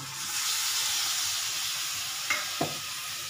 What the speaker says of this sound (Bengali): এবার আমি ফুলকপি আলুটা দিয়ে দিচ্ছি।